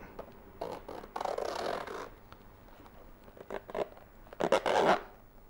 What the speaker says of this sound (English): I could turn the zipper and see what it sounds like when I zip it